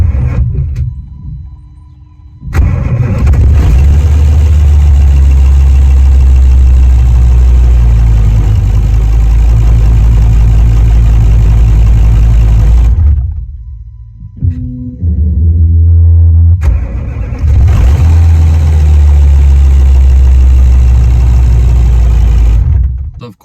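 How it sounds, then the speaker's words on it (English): A Volkswagen Touareg V10 TDI diesel engine with a starter problem cranks and runs loud and close, droning steadily, dropping out briefly, then cranking again and catching back into a heavy rumbling idle. "The very first crank you could hear it go really slow, and then the starter kicks out, and then it will actually start and crank"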